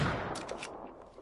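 Hand cannon gunfire in Fortnite Save the World, a quick cluster of loud, close shots and blasts over roughly a second, with no talking.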